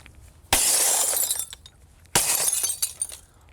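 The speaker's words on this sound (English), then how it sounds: "It'll crack, but the shards of glass will stay adhered to the inner layer" Break-resistant window glass cracking under crowbar blows, two sharp, loud impacts about a second and a half apart, each followed by a bright crackling, shattering wash of glass.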